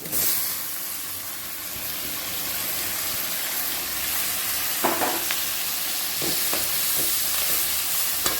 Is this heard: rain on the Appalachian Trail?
no